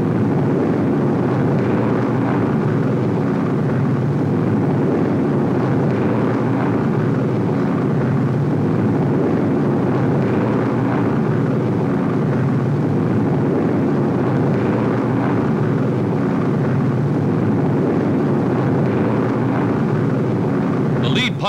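Low-flying RAF bomber of the Second World War skimming treetops over the countryside, a steady loud broadband engine roar that runs throughout, close and unbroken, with narration over it.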